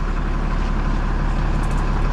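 A large truck arrives carrying a load of gravel (crushed stone) for building work, its engine a steady, loud, close rumble throughout with no pauses.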